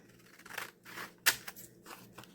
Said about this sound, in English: I'm just going to cut these out.